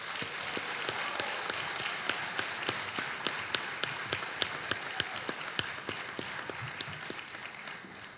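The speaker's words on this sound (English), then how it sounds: "Let's give them a round of applause." An audience applauds at a high school senior awards ceremony, with dense steady clapping sustained throughout, some sharper individual claps standing out, heard from within the room.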